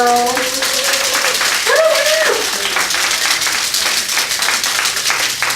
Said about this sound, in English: Y'all clap for these girls.